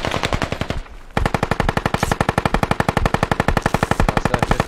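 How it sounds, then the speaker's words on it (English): Sustained bursts of .50 calibre heavy machine gun fire in the video game Squad, a loud steady rhythmic hammering of rapid shots after a brief pause at the start, with no talking. "That's a 50 cal fire on the west."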